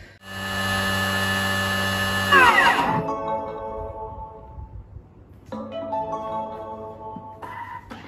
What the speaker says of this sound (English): we're going to blitz the spinach for 45 seconds